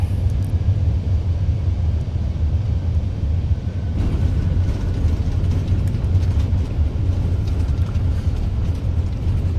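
An Airbus A380 on its landing roll in Christchurch with full thrust reversers, heard from inside as a loud, steady low rumble and roar that thickens partway through, with no talking.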